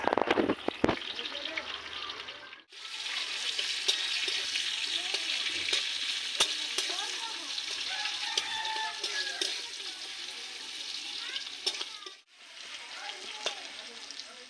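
Onions frying in a pan for vegetable khichuri give a bright, steady sizzle that cuts out briefly twice, with a few sharp clicks of stirring early on, heard close and fairly loud with no talk.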